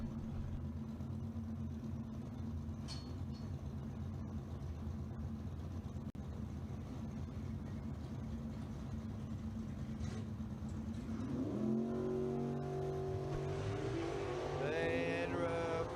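Race cars at a drag strip, one owned by Gary Cromwell and an Opel driven by Randy Longbreak, idle with a deep rumble that builds into rising revs and acceleration near the end, fairly distant with no talk.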